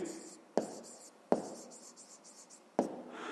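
Pen writing out a math solution on paper, close and quiet: a few sharp taps where the pen strikes down, with soft scratching strokes between them and no talk.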